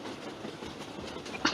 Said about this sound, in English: the sounds of the tracks clack clack clack clack clack clack